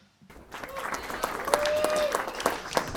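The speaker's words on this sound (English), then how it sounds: "why the fuck are you clapping for that?" A comedy club audience breaks into clapping after a short silence, a brisk burst of many hands with a few sharp individual claps and faint voices.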